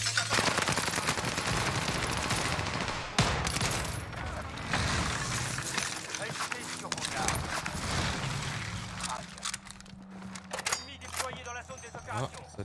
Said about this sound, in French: Ah, ça a tiré dans la zone.